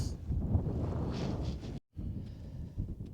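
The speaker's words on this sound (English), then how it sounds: "Hopefully the wind's dropped a little bit." Gusty wind buffets the microphone on top of Stapeley Hill, a continuous low rumbling roar that cuts out briefly for a moment before resuming, with no one talking.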